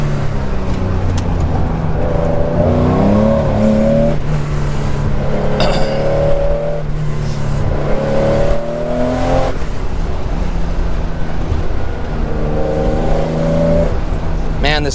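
A 1972 Porsche 911 drives on a slightly wet road, its engine humming and rising through revs in several smooth pulls, heard steadily from inside the car.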